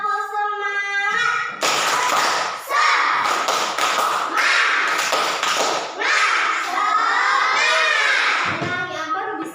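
Children chant and clap together in a rhythmic pattern in a classroom, loud claps and stamps punctuating their shouted voices in Indonesian, with a sung lead-in at the start.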